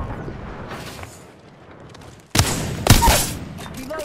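Gunfire in the video game Apex Legends: after a quiet stretch of faint background noise, loud gunshots burst out close by, with a second heavy burst of shots following a moment later.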